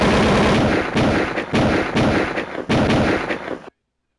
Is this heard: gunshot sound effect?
yes